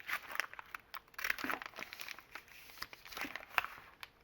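Quilted Amazon paper packaging being cut apart, with soft crinkling and rustling paper broken by a few crisp snips and tearing scrapes, close and quiet.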